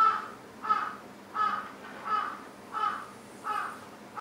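Crow cawing repeatedly, six evenly spaced harsh calls at a steady rhythm, moderately near and standing alone with no voices over it.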